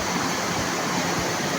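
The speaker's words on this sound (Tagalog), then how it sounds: "Grabe yung kalabasan ng tubig" Loud, steady roar of a large river rushing over a dam near a hanging bridge in Barangay Lupaan, a dense continuous broadband wash of water with no pauses.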